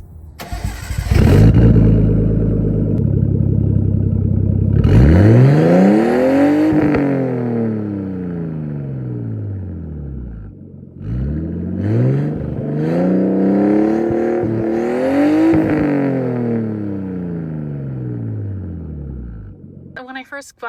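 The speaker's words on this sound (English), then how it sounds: "I literally just bought a really loud exhaust" Car with a loud Tomei aftermarket exhaust starting up and revving repeatedly, a close, aggressive engine with rising and falling sweeps between near-idle pauses, loud and prominent throughout.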